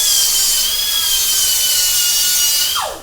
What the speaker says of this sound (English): So we get a piece of metal and we grind it down like that.